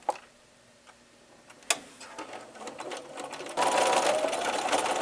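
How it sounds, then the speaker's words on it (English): A sewing machine stitches quilt pieces for a double four patch block, starting with a few scattered clicks and taps, then running in a fast steady mechanical whir that grows louder toward the end. "send them through the sewing machine all attached together"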